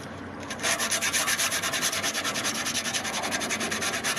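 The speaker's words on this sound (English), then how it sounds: "quick demo of the aluminum foil on rust trick" Aluminum foil rubbed back and forth on rusty bicycle chrome, a steady rhythmic scrubbing with fast, even strokes, close and fairly loud, following a brief quieter start.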